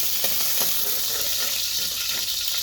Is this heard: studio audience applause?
no